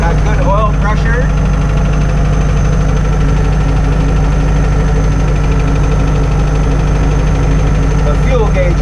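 A Spryte car engine runs steadily at idle, close and loud, with a constant low rumble and faint ticking throughout, some clicks and whistling tones near the start and end.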